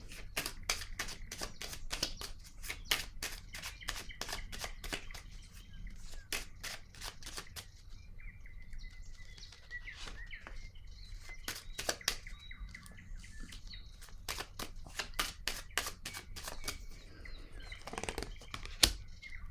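Playing cards shuffled and drawn during a card reading, giving rapid bursts of crisp riffling clicks in several clusters, close and fairly loud, with no talking.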